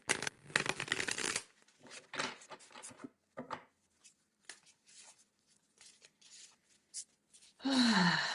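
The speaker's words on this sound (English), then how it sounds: "Okay, let's shuffle the cards." A tarot deck is shuffled by hand in bursts of riffling and soft card slides, separated by short pauses, with a louder rustle near the end.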